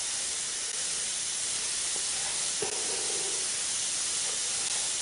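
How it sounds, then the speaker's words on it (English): Basecoat paint sprays onto 40K tabletop terrain models as a steady, close, unbroken hiss, with a slight surge near the middle and no talking. "let's see how this stuff's spraying"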